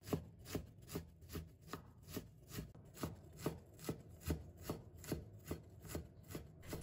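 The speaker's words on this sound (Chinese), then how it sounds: "最后切成姜末" A knife mincing ginger on a cutting board, a steady rhythm of crisp, close chopping strikes roughly three per second, with no voices.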